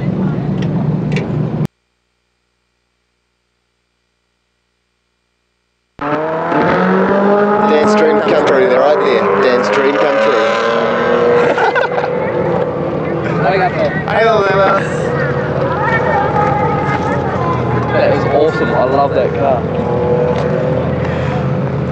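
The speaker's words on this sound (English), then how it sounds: "Sound of squealing tires. Yes. smell of smoke, engines on limiter." Drift cars on a track with engines bouncing off the rev limiter and tires squealing, a loud continuous roar of motors and screeching rubber after a short silent gap, with people talking over it.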